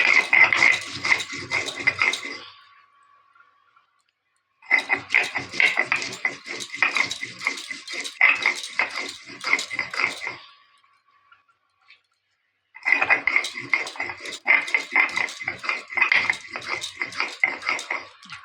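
Garam masala spices being ground into a paste, three long bouts of rhythmic scraping and rattling strokes on a hard surface, close and steady, separated by short pauses.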